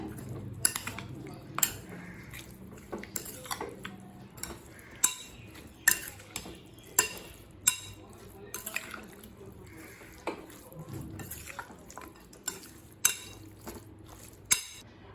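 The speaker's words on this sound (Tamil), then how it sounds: "இப்போ இது எல்லாத்தையும் நல்லா மிக்ஸ் பண்ணிக்கலாங்க" Utensils scrape and clink against a bowl in a steady, repeated stirring rhythm as chicken pakoda batter with food colour is mixed, close by and moderately loud, with no talking.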